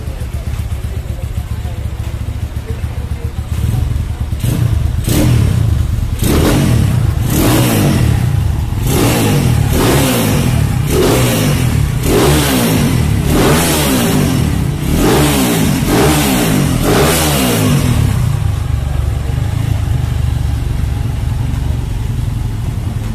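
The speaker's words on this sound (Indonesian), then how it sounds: "Kita akan coba hidupkan mesinnya." A GL100 250cc motorcycle engine fires up and idles close by, then is revved repeatedly in a dozen or so rising and falling bursts before settling back to a steady idle.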